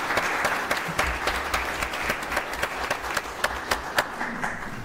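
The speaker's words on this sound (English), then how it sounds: "let's give them a round of applause" Applause from an audience at a city council meeting in Murfreesboro, Tennessee: steady, moderately distant clapping from a small crowd that sustains evenly for several seconds with no one speaking over it.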